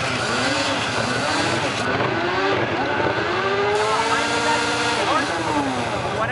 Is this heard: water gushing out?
no